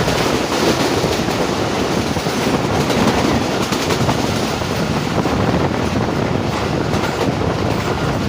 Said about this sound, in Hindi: इस वक्त हम ओडेरोल रेलवे स्टेशन को स्किप कर रहे हैं काफ़ी ज़बरदस्त स्पीड में।